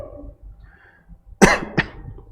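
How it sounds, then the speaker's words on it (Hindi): Two sharp coughs close by, the first louder, following a moment of quiet with faint breathing. "थोड़ी खांसी है हमको,"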